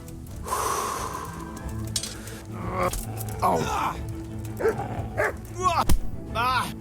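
A dog barks and snarls in short bursts amid Kingdom Come: Deliverance game sound effects and breathy gasps, with someone talking in between.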